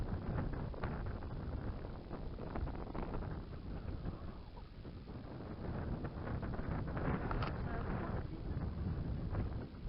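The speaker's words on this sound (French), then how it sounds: "Il y a du vent aujourd'hui, ça fait tomber le seau." Strong outdoor wind buffeting the microphone, a continuous rumbling roar with gusty fluctuations throughout.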